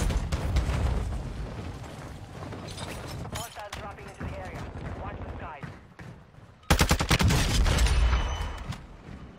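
Heavy gunfire and booming shots on a video game battlefield, including shotgun blasts, loud and dense with a sudden intense burst near the end, under intermittent talk.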